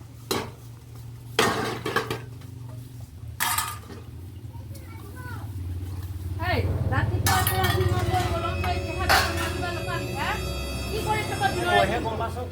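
Dishes, pots and cutlery clatter and scrape in a home kitchen as they are washed and scrubbed, with bursts of clinking metal over a steady background, while people talk intermittently throughout.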